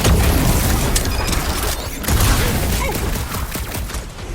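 Dense, rapid blaster fire and explosive booms fill a chaotic rooftop firefight in the Guardians of the Galaxy video game, loud and continuous with shots overlapping throughout.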